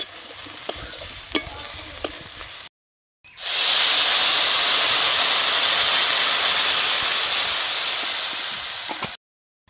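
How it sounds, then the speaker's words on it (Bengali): Water is poured into a hot pan of frying soybean and potato curry, setting off a loud, sustained hiss and sizzle after a few light clinks of stirring. "একটু নেড়ে চেড়ে এবার জল দিয়ে দেবো।"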